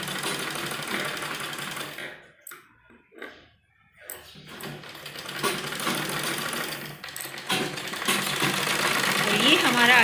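Sewing machine running basting stitches along the creases of a net baby frock, whirring in bursts that stop and restart, close and fairly quiet, with brief pauses between runs.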